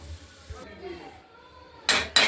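A spoon scrapes and clanks twice against a pot of cabbage curry with potatoes and peas, two short, sharp bursts near the end after a quieter stretch.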